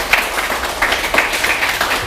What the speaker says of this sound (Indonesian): tepuk tangan ya untuk Pak Michael ya